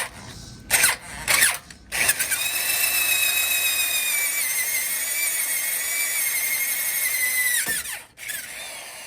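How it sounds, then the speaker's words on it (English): A power drill whines steadily as it bores a 7/16-inch hole in a metal skid plate for a rivet nut on a 4Runner, preceded by a few short bursts of the drill starting and stopping. "for that nut rivet, I need a 7/16 hole, and that's what this drill bit is"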